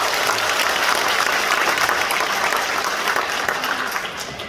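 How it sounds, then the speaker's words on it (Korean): A hall audience of party members at a lecture by a National Assembly member in Gumi breaks into sustained, dense applause, a steady wash of many hands clapping at full volume for several seconds before tapering slightly. "그럼 서로 박수 한번 부탁드려요"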